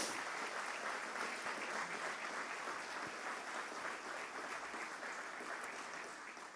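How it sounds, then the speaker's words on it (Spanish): A church congregation at a Sunday service claps steadily, a broad, even wash of many hands that fills the room for several seconds, slightly distant and fading a little toward the end. "Dele un aplauso a Jesús."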